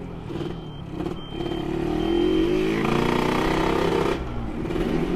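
A road race motorcycle with a Killer Whale exhaust rumbles nearby, its engine note rising into a louder throaty roar before easing back to a rough, steady idle.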